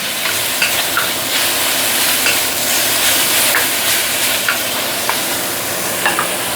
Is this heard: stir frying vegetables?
yes